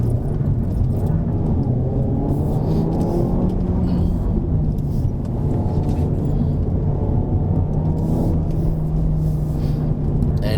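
Car engine droning in race mode with traction control off, a loud steady rumble whose pitch rises and falls gently as the revs shift, continuous for about ten seconds.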